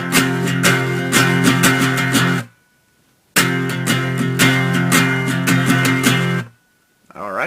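An acoustic guitar strums a full three-part rhythm pattern on a barred chord, in two bursts of busy, even strokes separated by a short silence, close and loud with no voices.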